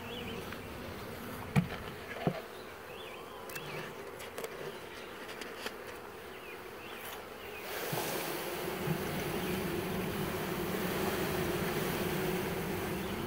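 Honeybees swarm around a new hive during installation, a soft continuous buzzing hum that thickens and grows denser partway through, with a few faint knocks early on and no talking.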